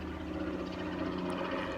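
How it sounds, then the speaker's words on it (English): Helicopter flying overhead near a beach, a steady low rotor and engine drone that holds evenly throughout at moderate level, with no talk over it. "That's a helicopter."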